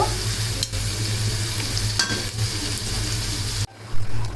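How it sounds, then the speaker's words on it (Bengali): Chopped onions fry in hot soybean oil, giving a loud, steady sizzle with stirring scrapes throughout and a brief drop in the noise near the end. "পেঁয়াজ কুচিটাকে হালকা করে ভেজে নেব।"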